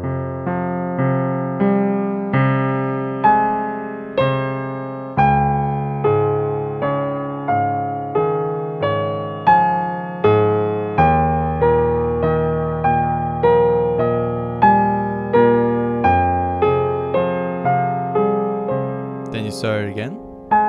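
Solo piano playing chords from a piano piece, a steady sequence of sustained chords struck in a regular rhythm, close and clear with no talking.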